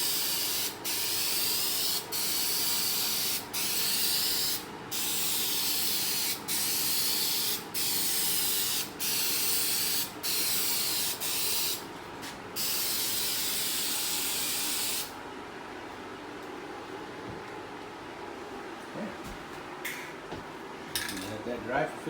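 Krylon spray lacquer hisses from an aerosol can onto a bathroom countertop in a regular run of loud bursts with brief gaps, then gives way to quieter rustling and light clatter.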